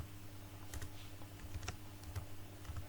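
Keys clatter on a computer keyboard as a formula is typed into an Excel spreadsheet, a quick run of light, close clicks in a quiet room.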